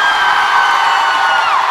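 A school concert crowd of children cheers and shouts together, a loud, sustained roar of whoops and yells with no individual words standing out.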